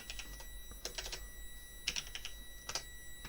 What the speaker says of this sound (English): Let's see if I type in Feyenoord